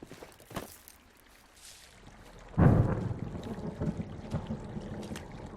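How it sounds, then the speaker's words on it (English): Thunder in the video game Firewatch arrives as a sudden deep rumbling boom after quiet forest ambience, then rolls on and slowly fades. "Hey, I heard some thunder."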